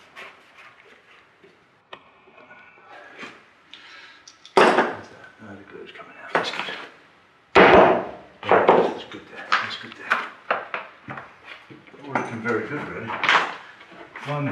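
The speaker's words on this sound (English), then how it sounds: "Let's just clamp a little bit up in the middle there." Clamps are fitted onto a laminated wooden boat stem, giving irregular clicks, knocks and metallic clanks, some sharp and loud, spread across a stretch of workshop handling.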